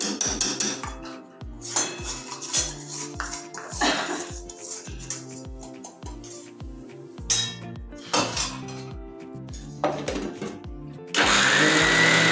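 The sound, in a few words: mixer grinder grinding semolina finely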